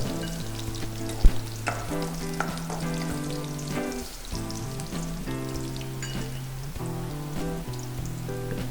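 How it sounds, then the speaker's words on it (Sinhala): Chopped garlic sizzles and fries in hot coconut oil for a papaya curry, a steady close crackle with scattered pops and a sharp spike near the start, set against a strong layer of tonal music throughout. "ඊට පස්සේ මේ පොල් තෙල් ටික රත් වීගෙන එනකොට අපි මේකට සුදු ලුණු කපාගත්ත සුදු ලුණු එකතු කරනවා."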